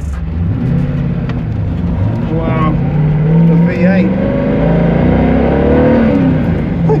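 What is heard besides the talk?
Mosler MT900S V8 race car engine revving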